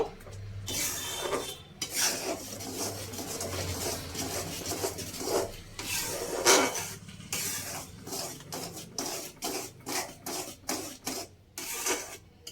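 Mango pulp being mixed with salt in a bowl for mango papad, with a spoon scraping and stirring in repeated rhythmic strokes and light clinks against the bowl, close up.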